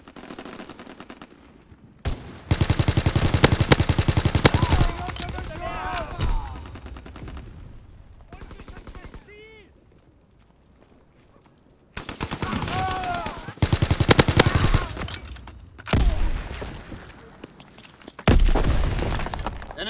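Gunfire and artillery in Call of Duty: WWII, with loud bursts of rapid automatic fire and heavy blasts arriving in several separate volleys, broken by quieter gaps where brief radio-style voices speak.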